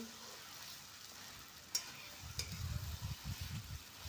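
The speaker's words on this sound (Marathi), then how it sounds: "ते पण आपल्याला फोडणीमध्ये छान मिक्स करून घ्यायचे आहेत" Soaked puffed rice being stirred into hot, sizzling oil tempering in a pan; a steady frying hiss runs throughout, and scraping stir sounds become louder in the second half.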